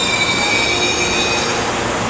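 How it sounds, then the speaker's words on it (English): Amtrak Sunset Limited passenger train arriving from New Orleans, a loud steady rumble of rolling cars with high metallic wheel squeals ringing over it, close by. "That's the Sunset Limited coming in from New Orleans."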